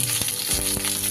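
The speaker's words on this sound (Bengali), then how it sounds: "ফুলকপি 1 মিনিটের মতো ভেজে নিয়েছিলাম, তারপরে গাজর দিয়ে গাজরটাও 30 সেকেন্ড নাড়াচাড়া করে নিয়ে" Cauliflower and carrot pieces sizzling in hot oil in a pan while being stirred, a steady close frying hiss with a few soft scraping stirs.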